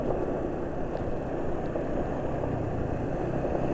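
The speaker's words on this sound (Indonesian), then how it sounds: "suara mesin halus" A smoothly running car engine with oil containing boron and stearic additives, a low even rumble with no voices and no change in pitch.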